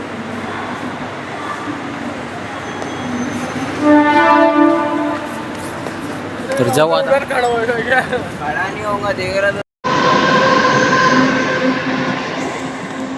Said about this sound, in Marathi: तर भावानं ट्रेन आली